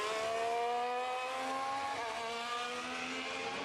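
Formula 1 cars from the 2026 season scream past at trackside, a loud, continuous layered engine wail with rising and falling pitch and no voices.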